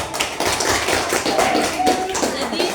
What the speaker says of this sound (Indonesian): mari kita berikan tepuk tangan untuk kelompok 3